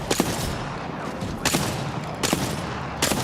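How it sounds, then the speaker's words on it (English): Gunfire in a video game shooter, sharp shots or short bursts recurring roughly every three-quarters of a second over a steady background of distant battle noise. "That's my teammate I'm shooting."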